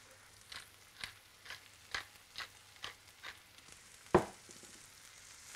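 Salsa frying in a pan and being stirred, giving a faint sizzle under a regular series of soft scraping strokes roughly every half second, ending with one louder clack.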